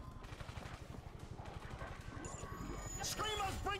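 Mounted machine gun turret in World War Z, a steady rapid stream of thudding shots running throughout, with game effects and voices layered on top.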